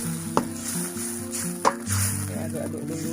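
Spices sizzle in a pan while being stirred for a Acehnese stir-fried clam dish, a steady crackling hiss broken by two sharp scraping clinks of the utensil, with a voice speaking quietly alongside.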